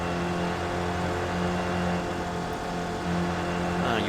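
Steady racing-sim engine drone from an SRF car in an online iRacing-style race at Charlotte, the revs easing and pulsing as the driver lifts off throttle, loud and continuous with no talk.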